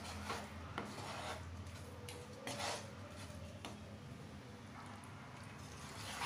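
Whole wheat flour halwa roasting in ghee is stirred continuously in a pan, giving steady close scraping and rubbing with occasional sharper scrapes against the metal.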